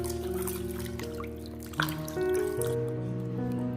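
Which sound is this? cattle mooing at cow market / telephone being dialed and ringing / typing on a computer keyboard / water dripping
water dripping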